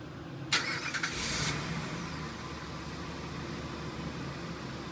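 A 2006 Jeep Commander engine fires up via an Autopage RS665 remote starter: a brief cranking burst, then a steady, moderately loud idle rumble that carries on alone.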